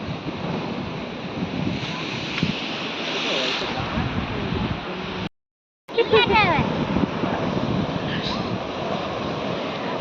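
Ocean waves wash against a beach in a steady, broad roar with wind buffeting the microphone, broken by a brief silent gap midway.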